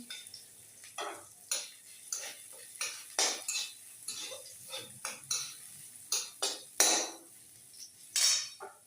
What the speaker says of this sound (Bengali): এবার একে আমি একটু ভালো করে নাড়াচাড়া করবো